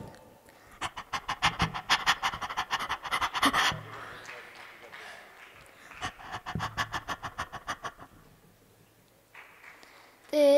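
A person imitates a dog panting in the heat with rapid rhythmic breathy huffs in two bursts separated by a short pause, close and fairly loud, with a brief vocal sound at the end.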